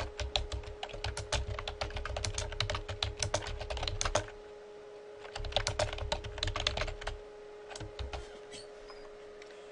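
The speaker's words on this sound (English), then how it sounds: "I'm going to just type something in here about that" Rapid bursts of typing on a computer keyboard, close and crisp, with a short pause midway before the key clicks resume, unaccompanied by speech.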